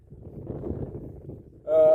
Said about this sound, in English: Hopefully you can hear me. It's pretty windy.